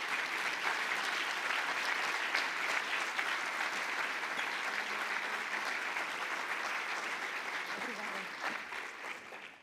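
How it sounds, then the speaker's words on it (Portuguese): An audience applauds actor Carlos Correia at a professional body's inauguration ceremony, a steady, dense wash of clapping that holds evenly for the whole stretch, with some talk faintly underneath. "eu pedi a presença dele em palco para receber o merecido aplauso"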